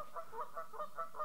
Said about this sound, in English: Oh, the Canadian geese are coming.